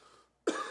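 A single sharp cough after a dab hit bursts out near the end, close and abrupt, following a moment of near silence.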